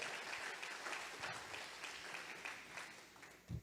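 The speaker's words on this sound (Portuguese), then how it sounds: "Aplaude ele, aplaude." Applause from a church congregation, a steady dense clapping that fills the whole stretch at moderate level, with a louder burst near the end.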